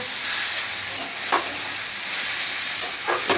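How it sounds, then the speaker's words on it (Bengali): Water spinach (kalmi shak) frying in a pan gives a loud, steady hiss and sizzle, broken by a few sharp stirring clicks and scrapes, with no talking. "কলমি শাক ভাজা বসেছে"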